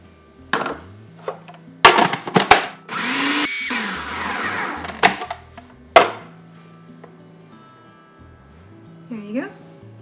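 A kitchen blender grinds gluten-free oats in short, loud whirring bursts lasting a second or two, separated by pauses, while a person talks before and after.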